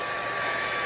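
A handheld blow dryer fitted with a concentrator nozzle roars steadily at close range during a blowout for a cosmetology state board exam, its broadband airflow hiss continuous and unbroken.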